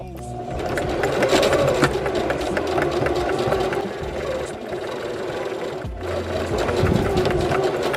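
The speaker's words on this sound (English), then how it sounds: "And make sure that when you're sewing," A sewing machine stitches fabric for a face mask, its steady rapid mechanical whir running nearly continuously with a brief pause, close and fairly loud, with a voice talking faintly beneath.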